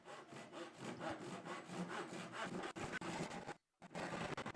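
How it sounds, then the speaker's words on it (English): A Japanese hand saw cutting through a reclaimed wooden beam, heard close as a quick run of rhythmic rasping strokes, with a brief pause near the end before the strokes resume. "So I took out my Japanese saw, but it just kept breaking and breaking apart."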